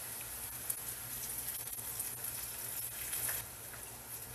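Chicken pieces frying in a pan for ginataang manok, a steady crackling sizzle with faint pops running throughout, close and fairly quiet with no voice over it.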